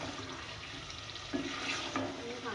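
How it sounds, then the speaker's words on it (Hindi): Water is poured into a pot of beef cooking for arvi gosht, a rushing splash that rises partway through and settles over a steady sizzling background. "पानी डाल रही हूँ।"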